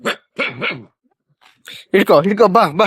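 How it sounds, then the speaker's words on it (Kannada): A dog barks in a few close, sharp bursts, mixed with people talking nearby. "ನೋಡಿ ನಾಯಿ ಕೂಡ ಬೊಗಳ್ತೈತೆ ನೋಡಿ"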